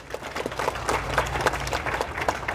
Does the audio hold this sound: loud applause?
yes